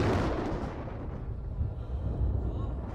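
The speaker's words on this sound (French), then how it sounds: "Quelques-uns dirent que c'était le tonnerre" Deep rolling thunder used as a sound effect in a dramatized French Bible reading, a heavy rumble that starts loud and keeps churning low and steady, with no one speaking over it.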